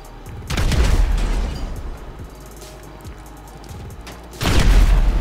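A heavily armed Akula reconnaissance helicopter blows up under fire in GTA 5 Online, with two loud booming explosion bursts separated by a rumbling lull, close and forceful.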